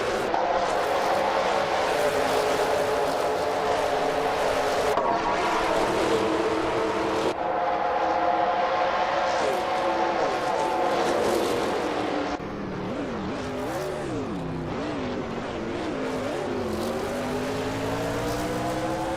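Race cars from a racing video game, including a 2017 Chevrolet SS, drone continuously with loud engine tones that rise and fall through gear changes. A pitch-shifting pass sweeps through near the end.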